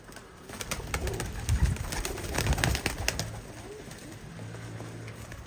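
Several Uzbek pigeons coo at a busy pigeon auction, low repeated rolling coos over a steady background din of birds and crowd, fairly close and moderately loud throughout.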